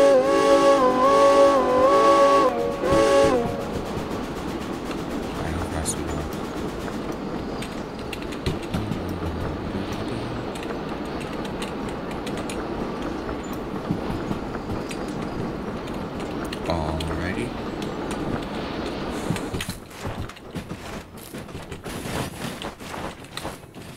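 A steam locomotive runs through Derail Valley with continuous mechanical clanking, rattling and grinding. A strong rhythmic chuffing pulse opens the first few seconds, then a steady rumble with creaks carries on, dropping off near the end.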